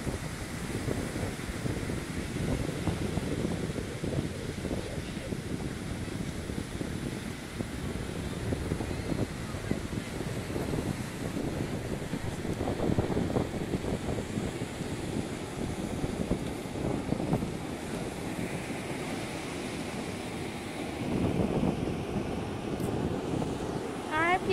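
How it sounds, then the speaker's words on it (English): Ocean breeze and waves at a beach, a steady wash of wind and surf with gusty wind buffeting the microphone, moderately loud and continuous, with no one talking. "I'm gonna go quiet a little bit so you can hear the breeze."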